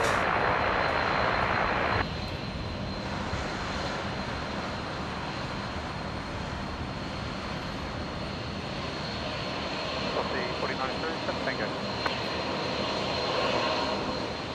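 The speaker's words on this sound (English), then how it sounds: "The Philippines 321 Neo going home to Manila off of 19 right" A Philippine Airlines Airbus A321neo jet departs from runway 19 right, a loud roar of engines at first that eases into a steady, broad rumble at a distance, with airport background noise.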